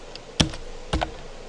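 Two separate clicks of keys on a computer keyboard, close and sharp, with a short gap between them in otherwise quiet surroundings.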